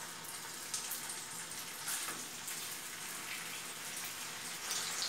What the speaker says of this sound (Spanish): Ya que está caliente el aceite, voy a poner las chuletas.